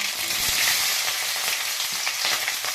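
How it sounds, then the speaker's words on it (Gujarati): Loud, close crackling and spitting of chilies and mustard seeds frying in hot oil for a tempering, with a continuous bright sizzle and small pops throughout. "તેલ આવી ગયું છે તેમાં રાઈને આપણે મરચું નાખી દઈએ"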